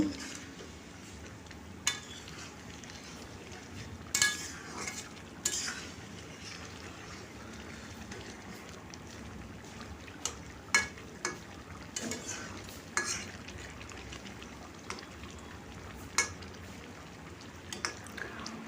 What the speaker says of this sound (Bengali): আমি আবারও মিশিয়ে আবারও কিছুক্ষণ ফুটি নেব